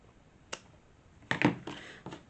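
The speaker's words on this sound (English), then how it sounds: "Cut off the excess lace." Scissors snip off excess lace on a handmade lacy envelope keepsake, a faint click followed a second later by a louder cluster of close crisp cuts and a couple of trailing snips.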